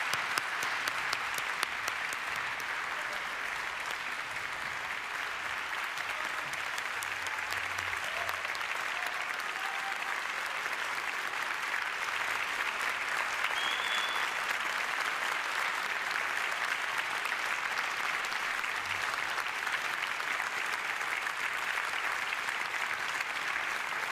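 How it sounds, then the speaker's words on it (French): At the Prix du Québec 2022 ceremony the audience gives the laureates sustained, even applause, a broad wash of many hands clapping at moderate level that continues without letup. "je vous demande une dernière fois d'applaudir à nouveau les lauréates et lauréats du Prix du Québec 2022."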